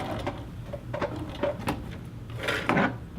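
Sewing machine stitching the center back seam of a little girl's dress, then backstitching, in short mechanical bursts with brief pauses between runs; moderately close, with no talking.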